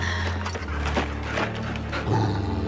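A dog barks amid a tense horror-film soundtrack dubbed into Spanish, a few short barks mixed into a dense bed of music and ambience.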